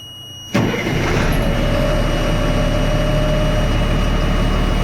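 LMTV military truck engine starting with a new ignition switch: a sudden loud catch after a brief quiet, then a continuous heavy, low rumbling idle with a high whine.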